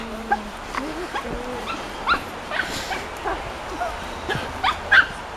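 A dog in a mossy Canadian rainforest gives short yips and whimpering barks in scattered bursts at moderate distance, with faint human voices in the background.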